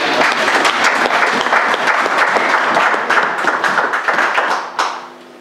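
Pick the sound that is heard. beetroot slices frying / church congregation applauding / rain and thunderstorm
church congregation applauding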